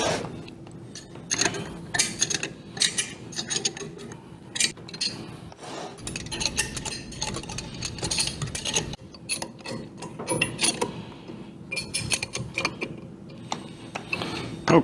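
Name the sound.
tightening actuator mounting nuts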